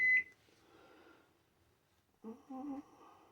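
A kitchen oven timer gives a short electronic beep as it is cleared during Christmas dinner cooking, followed by a faint hum and a second brief burst of tones.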